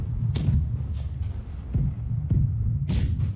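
In the naval video game BlackWake, a ship's cannon fires a grapple shot, producing deep booming thuds and low rumbling over a steady throbbing background, with a sharp blast near the end.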